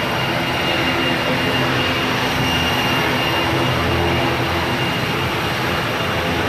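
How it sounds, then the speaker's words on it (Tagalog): Steady broadband roar of a passenger airplane's engines heard from inside the cabin during flight, continuous and loud throughout with no speech. "Na-experience na kami sumakay ng aeroplano ni CJ."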